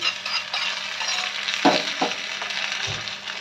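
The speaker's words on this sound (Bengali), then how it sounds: "দিয়ে দিচ্ছি 2টো শুকনো লঙ্কা আর কারি পাতা ফোড়ন। তড়কাটা চাটনির ওপরে ঢেলে দিচ্ছি।" A tempering of mustard seeds, dried red chillies and curry leaves in hot oil poured over chutney, giving a soft sizzle with a couple of faint clinks from the utensils, with no talk.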